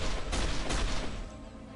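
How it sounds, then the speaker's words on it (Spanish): Rapid bursts of gunfire from the Iron Man Hulkbuster suit in the Avengers: Age of Ultron video game, a dense, loud barrage of shots and booms that thins out toward the end. "Balazos."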